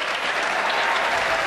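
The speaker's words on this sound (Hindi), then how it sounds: "जरा एक बार ताली बजा दो" Audience applause at a comedic Hindi poetry recital, a dense steady burst of many hands clapping close and loud throughout the short moment, with no talking over it.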